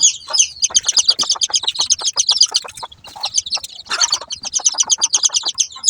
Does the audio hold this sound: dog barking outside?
no